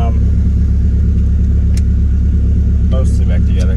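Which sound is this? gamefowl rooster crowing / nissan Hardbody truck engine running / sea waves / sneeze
nissan Hardbody truck engine running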